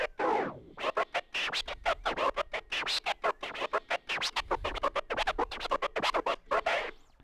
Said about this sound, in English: this is a three clicker